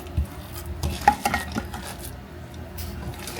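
Meatloaf mixture of ground hamburger being gently folded and mixed by hand in a bowl, giving soft wet squishing and stirring sounds with a few light clinks against the bowl, close and fairly quiet, with no talking.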